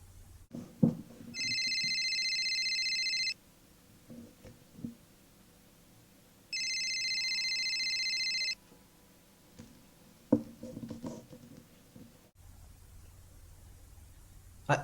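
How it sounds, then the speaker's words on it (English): An unanswered telephone rings in two long, steady electronic trills of about two seconds each, separated by a pause, with faint background noise in between. "I don't know why she isn't answering her phone."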